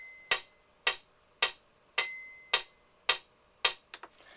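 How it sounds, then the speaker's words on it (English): The built-in metronome of a Roland FP-30X digital piano ticks seven times at a steady moderate tempo, sharp and close, followed by a few quick faint clicks. "The metronome sounds like this."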